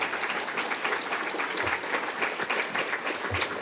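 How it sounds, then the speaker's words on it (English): Steady, dense applause from a lecture audience fills the room for several seconds at an even level, with no speech over it. "Of course, people in this room are going to clap at that."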